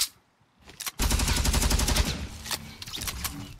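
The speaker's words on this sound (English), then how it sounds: "someone is shooting me" Loud, close automatic gunfire in Fortnite rattles in a sustained rapid burst, followed by scattered single shots and impacts, with no talking.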